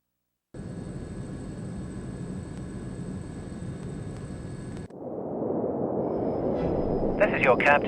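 A steady airplane cabin engine drone from the No One Lives Forever spy game, on a flight to London, starts abruptly and runs as a constant low roar with a faint tonal hum. It shifts to a rougher rumble near the end, with a voice talking over it.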